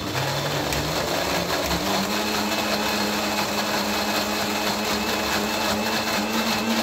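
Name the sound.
mixer grinder grinding soaked urad dal into batter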